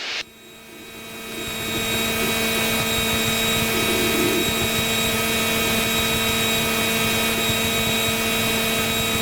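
Small airplane engine descending toward Furnace Creek Airport in Death Valley, a steady loud cabin drone with a constant tonal hum that ramps up after a brief start and holds.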